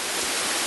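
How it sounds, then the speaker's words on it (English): A waterfall in the misty Blue Ridge Mountains rushes in a dense, steady broadband roar, close and loud, with no other sounds. "This waterfall is absolutely gorgeous, and the sound is incredible."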